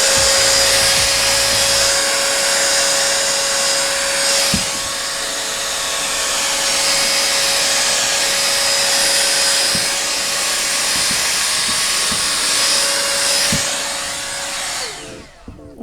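An Elecsop hot air brush blow dryer runs on setting 3 with a loud, steady whining roar and a constant high tone, plus a few faint clicks before it cuts off at the end.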